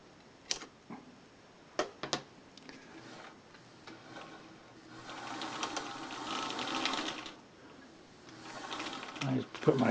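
A Singer 201K sewing machine winds a bobbin with a soft mechanical whir that swells and eases, punctuated by sharp clicks and taps near the start and a clack at the end as the winder kicks off.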